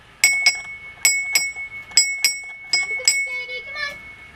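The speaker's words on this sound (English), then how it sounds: "ring the dinner bell." A handheld dinner bell rings out for a family birthday meal, several sharp metallic strikes in uneven bursts, close and bright, with a voice briefly heard near the end.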